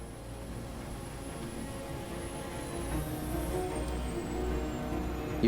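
A steady, continuous airplane engine drone in flight during a test flight, with a broad low rumble and a thin high whine, unchanging and fairly loud throughout, with no voices.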